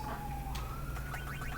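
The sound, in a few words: emergency vehicle siren outside near a major road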